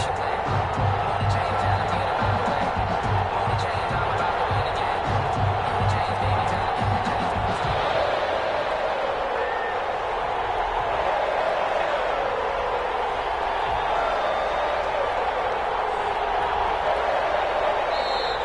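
Dense stadium crowd roar at a Denver Broncos versus Las Vegas Raiders football game, a loud constant wash of voices and cheering that persists throughout, with speech over it.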